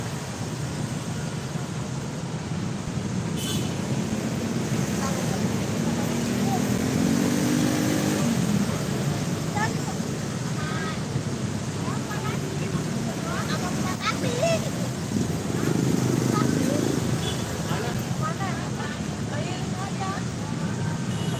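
Motorcycles and other traffic pass along a busy night street during Takbiran, a steady droning engine rumble with a couple of louder passes swelling up close, under a continuous street din with background voices.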